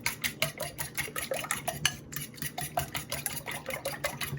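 Eggs and heavy cream whisked in a bowl, a brisk rhythmic clatter of a utensil against the dish repeating rapidly with a brief pause midway, close and clear with no voices.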